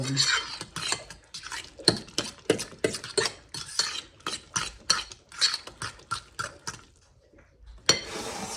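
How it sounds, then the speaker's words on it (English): Leftover meatloaf mixture stirred in a bowl, rapid rhythmic scraping and clinking of a utensil against the dish, close and steady, pausing briefly before one more burst. "So let's stir this up."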